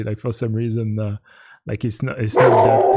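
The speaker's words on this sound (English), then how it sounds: "Sorry about the dog." A dog barks and whimpers at a home as someone talks, the barking voiced and rhythmic at first, then pausing before a louder, noisier burst near the end.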